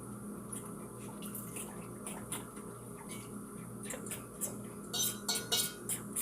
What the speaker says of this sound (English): I'm gonna continue to beat it as I stir in the oats